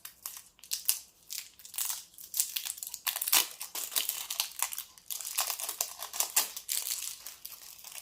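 Crinkly plastic packaging being torn and unwrapped from a rolled canvas, with continuous close crackling and crumpling bursts throughout and no talking.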